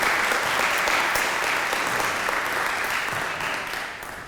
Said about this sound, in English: So can we have a round of applause for Mimi?